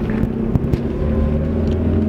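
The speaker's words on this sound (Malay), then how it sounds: "Bawa kereta laju macam ni" A car driven fast at night, its engine rumbling loud and steady with a low droning hum and faint road noise, no voices over it.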